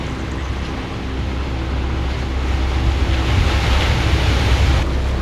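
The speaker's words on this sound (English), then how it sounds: "The rocks are just behind me, the waves crashing behind me." Ocean waves break steadily on rocks along a beach at night at Bombo, New South Wales, a loud, continuous roar of surf that slowly swells, with wind buffeting the microphone.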